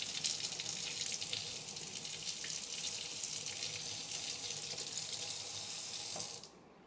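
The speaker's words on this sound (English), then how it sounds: "Just gonna rinse that off a little bit." Running tap water streams steadily as a whisk is rinsed in a kitchen sink while making a tres leches cake, a continuous bright hiss that cuts off abruptly near the end.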